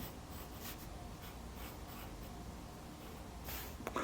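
A pencil drawing the lines of a face on paper makes a steady, faint scratchy rubbing under a constant background hiss, close and unbroken for about four seconds.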